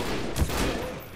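Gunfire in the shooter game E.Y.E Divine Cybermancy, a dense burst of rapid shots blurred into a continuous rattling roar, loud and close throughout the short moment.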